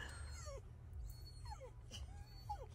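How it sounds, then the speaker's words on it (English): A worried dog whimpers in several short, high, wavering whines spaced a second or so apart. The whines are faint over a low, steady background hum. "Dog is worried."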